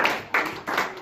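Short bursts of congregation clapping in a French-speaking church service, three quick swells of hands acclaiming the word, loud and close with no talking.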